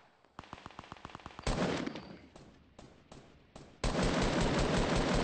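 Rapid automatic gunfire in the Fortnite battle royale game: a quick rhythmic burst of shots, then heavier dense firing with short breaks, loud and close, with no talking.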